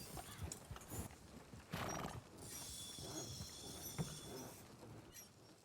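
Horse hooves clip-clop and a horse whinnies in Red Dead Redemption 2, with a creaking mechanical sound and a bright hiss in the background; synthetic, game-like quality, fairly quiet.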